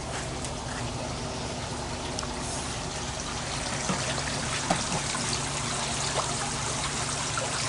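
Water trickles and pours steadily into a fish tank outdoors on a homestead. The flow is continuous and moderately close, with faint splashes and no talking.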